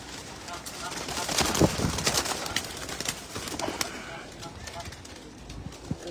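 Rooftop pigeon loft with breeding pigeons, their soft cooing running through the clip amid steady outdoor noise, with someone talking close by.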